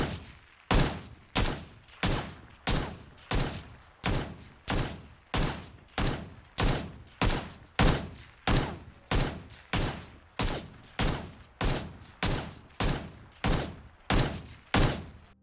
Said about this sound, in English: gun sounds will only have 3 directions: left, right, front, back